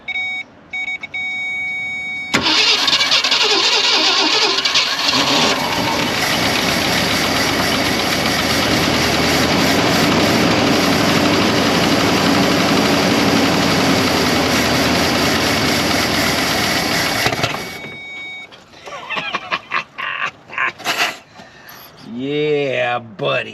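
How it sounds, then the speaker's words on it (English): A 1965 Ford Thunderbird engine, long sitting and rusty, catches and runs loudly for about fifteen seconds with a rough, steady roar before shutting off, followed by scattered shuffling and brief talk. "Let's see if we crank it again. Let's see if we can get it to run for a second."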